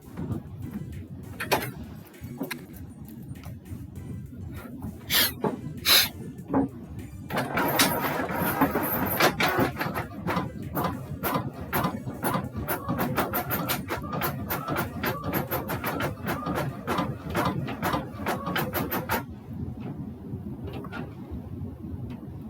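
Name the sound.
printer printing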